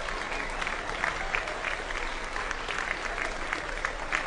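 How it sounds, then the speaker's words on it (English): Sustained audience applause at a live stage show honoring an actor's debut fills the whole stretch, a dense, steady wash of many hands clapping at even loudness, with no clear speech standing out. "Let's give John Davis a round of applause tonight for his acting debut."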